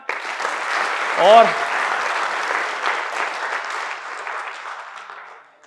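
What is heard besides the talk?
applause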